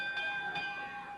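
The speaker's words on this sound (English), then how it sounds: "The referee at that point calls for the bell to be rung as Hart jumps in with a stick." Wrestling ring bell rung during a match, a few bright metallic rings with sustained tones, moderately loud against arena background.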